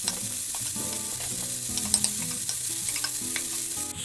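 Sausages and bacon frying and sizzling in a pot, a loud, steady crackling hiss with some stirring, no voices.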